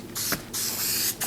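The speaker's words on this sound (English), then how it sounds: "I've taken a liking to this 3M Super 77 spray glue" 3M Super 77 spray adhesive hisses from an aerosol can in three close bursts, a short puff then two longer sprays, coating foam for leather backrest upholstery on a Stickley Mission rocker.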